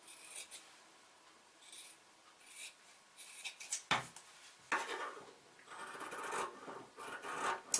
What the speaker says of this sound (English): let's just cut this new collar piece out